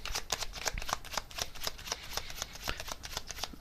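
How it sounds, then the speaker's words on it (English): Tarot cards being shuffled close up, a quick run of crisp papery riffles and flicks in a steady rhythm with no talk. "I'm just going to get one more tarot card here on this."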